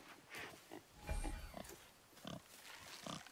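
Boar grunts in the God of War video game, a few short snorting bursts scattered through a quiet stretch, fairly close and moderately loud with no talk over them.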